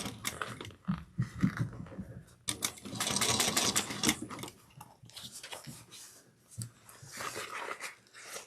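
A sewing machine back-stitches across a crossbody bag in short bursts of rapid stitching, separated by brief pauses and clicks, fairly quiet and close.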